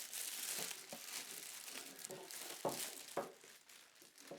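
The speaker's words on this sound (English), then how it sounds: "removing the main plastic packaging from the shredder itself" Plastic packaging crinkles and crumples as it is pulled off a ProAction 8 Sheet 3 Litre desktop shredder, a steady rustle with a few sharper crackles, close and moderately loud, no talking.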